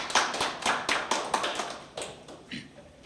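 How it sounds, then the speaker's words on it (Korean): An audience at a legal seminar on virtual assets claps in a brisk burst of applause, fairly close and steady at first, then thinning out and fading within a few seconds. "큰 박수 부탁드립니다"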